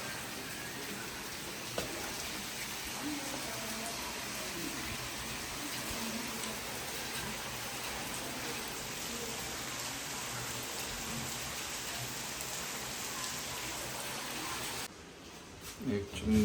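Rain falls steadily in a broad, even hiss, with a few louder knocks as it ends abruptly near the close.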